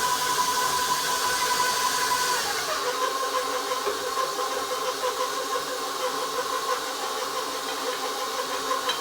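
An electric mixer beating sugar cookie dough in a bowl, a steady whirring drone that shifts slightly in pitch as it runs continuously.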